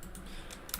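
Computer keyboard typing while an IPv4 address is entered during a VMware lab rebuild: a brief, close run of crisp key clicks with one sharper keystroke near the end, no talking.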